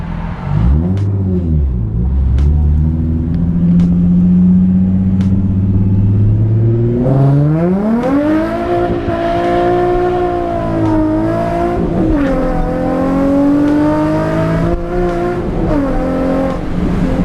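A car pulls hard during a street race, its engine revving up loud and close, dropping in pitch at a gear change and then climbing again through sustained acceleration, with no talk.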